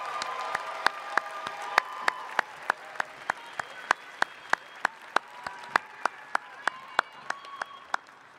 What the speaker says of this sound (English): Would you please join me in a round of applause for the Masters of Science in Information Security